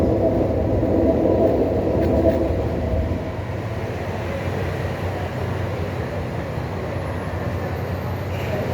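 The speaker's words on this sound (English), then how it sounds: "Just hear the rumble of a train passing over the bridge there behind me." A deep, steady rumble of a train rolling over a bridge nearby in London, heaviest at first and then settling into a continuous low drone.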